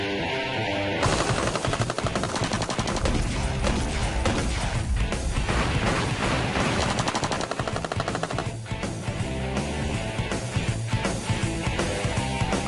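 Sustained fully automatic fire from an M16 rifle, a dense, loud burst of rapid shots running for about twelve seconds with only brief dips, heard close up and alone.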